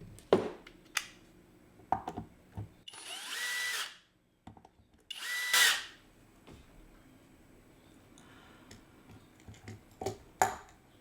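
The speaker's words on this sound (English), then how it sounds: "now let's remove these screws so I can show you what is going on" A cordless power drill whirs in two short, loud bursts while backing screws out of the bridge of a vintage Kramer 450-B aluminum-neck bass, with scattered clicks and taps of handling between them and no talking.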